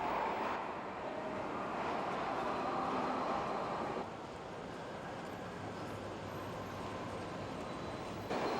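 A Pyongyang subway train runs through its tunnel, a steady broadband rumble and rush that holds at an even level for several seconds, with a faint shift partway through and no voices.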